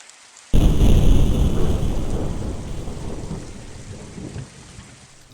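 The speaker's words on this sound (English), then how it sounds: "A brief aside, this is what the rain will look like." Heavy rain pours down in the video game STRATA, a sudden loud downpour with rumbling, thunder-like weight that starts abruptly and stays steady, easing slightly toward the end.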